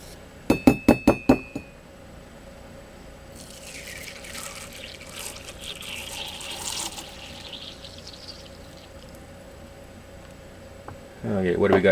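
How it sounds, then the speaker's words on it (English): A cup being filled with hot water during a fan controller temperature test: a burst of sharp glass clinks at the start, then a hissy pour of running water in the middle, ending with a louder rush of liquid. "fill it only with hot water."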